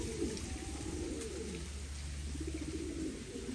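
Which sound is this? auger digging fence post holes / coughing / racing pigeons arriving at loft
racing pigeons arriving at loft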